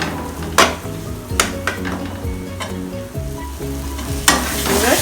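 Egg kurma cooks in a pan on low heat with a steady sizzle and bubbling, broken by several sharp clinks and scrapes of a spoon stirring against the pan.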